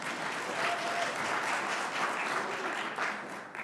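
An audience claps steadily for students at a campus event, a soft, even wash of applause from a moderately sized crowd that fades slightly at the end.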